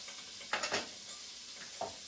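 Drop scones fry in butter in a pan, a quiet sizzle running underneath a few soft scraping and stirring bursts, close by with no voices.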